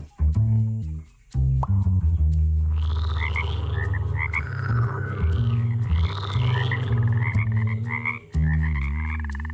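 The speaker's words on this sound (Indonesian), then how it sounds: "Itu tadi sebenarnya katak." Frogs croak loudly and repeatedly at close range, a chorus of deep, throaty calls overlaid with higher chirping trills, pausing briefly before resuming.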